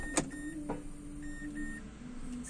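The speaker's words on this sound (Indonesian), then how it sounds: "Kita buka pintu." A Mazda car door opens with a sharp latch click, a second softer click, then a short repeating electronic chime over a low steady hum.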